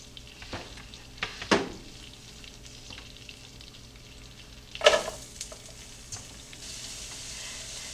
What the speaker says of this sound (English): we can hear the sizzle going on right now